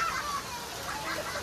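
Steady rain hiss during the first monsoon storm of 2024 in Mumbai, a continuous noisy wash without distinct drops, moderately quiet and brief.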